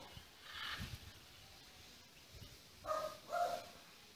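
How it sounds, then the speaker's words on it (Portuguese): A small dog barks from inside a house with green-painted door and tinted windows, a few muffled yaps heard at a distance, the clearest pair coming near the end. "o cachorrinho lá dentro, escutando tudo"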